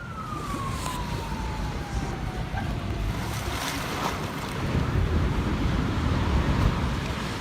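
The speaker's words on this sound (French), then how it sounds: "Voici à quoi ressemblent des inondations en hiver." Continuous rough rush of winter floodwater surf and wind-driven water, steady and loud, with a faint falling tone sliding through the first seconds.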